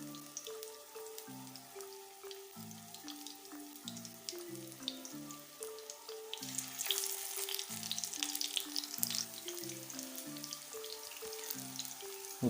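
Peshawari beef chapli kabab topped with tomato slices frying in oil in a pan over low heat, a steady soft sizzle under background music that swells partway through.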